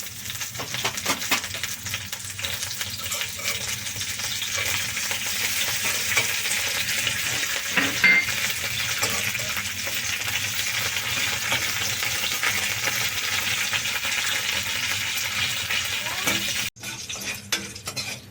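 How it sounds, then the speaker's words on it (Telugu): Steady, loud crackling and sizzling of fenugreek seeds and curry leaves tempering in hot oil, continuous throughout with faint clinks, no voices. "కొన్ని మెంతులు వేసుకున్నాం కదా, కరివేపాకు కూడా వేసుకున్నాం. పేలుతుంది"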